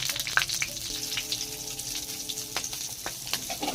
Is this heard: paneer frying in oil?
yes